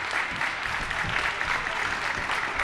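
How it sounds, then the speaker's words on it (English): Steady applause from a stadium crowd as the Australia team comes across to acknowledge its travelling fans at an international football tournament, a dense continuous clatter of many hands throughout. "the Australia team coming across to applaud their fans"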